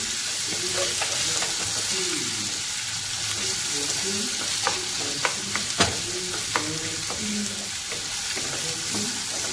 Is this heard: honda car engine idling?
no